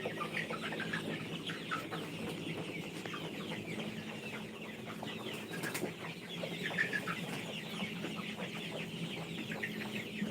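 Chickens on a poultry farm with turned litter bedding flap their wings and cluck softly in a steady, quiet background bustle, with no voices.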